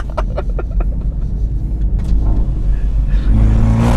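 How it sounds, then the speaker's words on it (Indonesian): A car engine with a racing exhaust rumbles low and loud, with sharp blips of revving early on and a deep, steady exhaust drone building toward the end. "Nah, ini yang knalpot racingnya."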